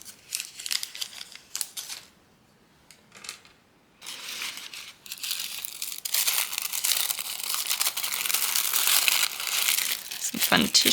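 Tissue paper rustles and crinkles near the mic while someone unpacks a miniature kit, with quiet gaps and then a long, steady stretch of crinkling.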